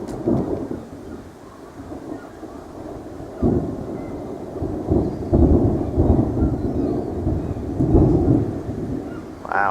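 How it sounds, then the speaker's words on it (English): A loud clap of thunder from a severe thunderstorm rumbles heavily and rolls on for several seconds, with rain hissing faintly beneath and no talk over it. "Wow, so loud clap of thunder."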